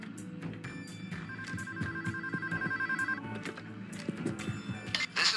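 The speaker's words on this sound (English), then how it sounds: "One of you guys answer the phone and pass me through." A telephone rings in the Payday heist video game, repeated electronic ring tones over busy background clatter, fairly close and steady.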